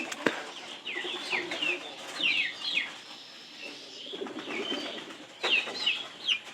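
Pigeons kept with their chicks coo in soft repeated phrases close by, mixed with a few higher chirps and a background murmur.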